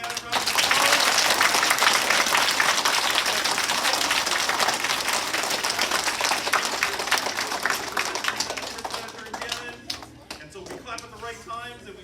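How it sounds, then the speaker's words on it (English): Applause for a second grade team at a school show, dense clapping that gradually thins into scattered claps with voices rising toward the end. "Let's give them a real big hand of applause"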